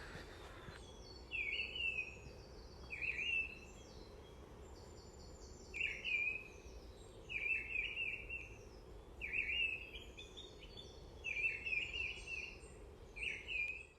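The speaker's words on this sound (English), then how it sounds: "I'm being accompanied by a blackbird up in that tree" A blackbird sings from a tree beside a stream on a morning countryside walk, its fluting phrases repeating every second or so, clear and fairly close over a soft steady background hum.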